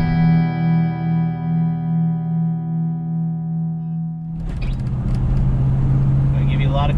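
A 1970 Plymouth 'Cuda 340 muscle car idles with a deep, pulsing V8 rumble, then the engine note roughens and grows louder as it pulls away under way.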